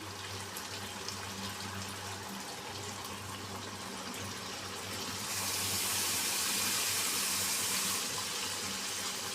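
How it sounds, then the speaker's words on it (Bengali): Hot water pours into a pot of chicken curry with bean seeds, a continuous close splashing flow that grows louder partway through. "এবার এখানে আমি পানি দিয়ে দেবো পরিমাণ মতো তো এখানে আমি কিন্তু গরম পানিটা ব্যবহার করতেছি"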